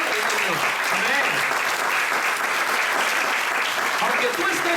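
A church congregation applauds during a sermon, a steady, even wash of many hands clapping at moderate distance with voices mingled in, sustained throughout without a break.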